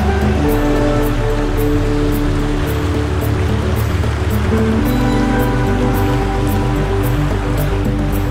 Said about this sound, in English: This is the Elbow River and we're just above the falls.